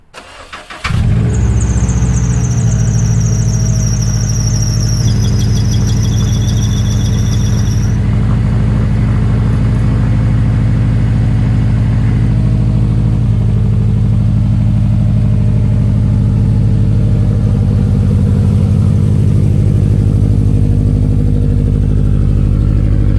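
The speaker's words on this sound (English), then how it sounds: "I'm gonna give you guys a cold start up," A 2008-or-later Subaru STi cold-starts right after an oil change: a sharp crank and catch, then a loud, steady high idle with a whining squeal near the start, running alone without talk until the end.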